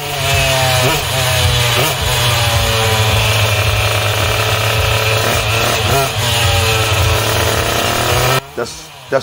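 A water-cooled Puch Maxi moped with an 88cc engine idles loudly and steadily nearby, a buzzy two-stroke drone with slight revving wobbles that cuts off near the end, with people talking over it.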